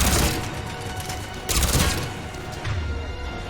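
A bomb attack goes off in the Mass Effect 3 video game, a loud crackling blast followed by two more heavy bursts in close succession, dense with rumbling debris.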